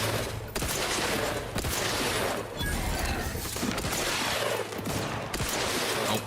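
Gunfire in the video game The Outer Worlds 2, dense bursts of loud shots with crashing impacts, broken by short pauses roughly every second.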